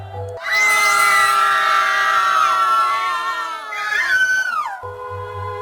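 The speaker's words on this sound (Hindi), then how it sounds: "चीखें थीं" A crowd of many voices screams and shrieks together, loud and sustained for several seconds before abruptly cutting off.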